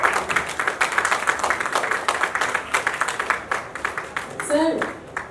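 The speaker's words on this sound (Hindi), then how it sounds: "इनके लिए जोरदार तालियां." An audience at a film trailer launch event claps for the movie's director: quick, rhythmic hand claps keep going throughout, mixed with some voices, and trail off near the end.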